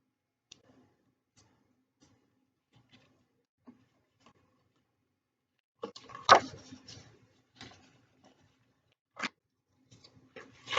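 Scissors cut a piece out of paper or card in a quiet room, starting with faint ticks and then a busy run of close, crisp snips and rustles, with a few further sharp cuts near the end.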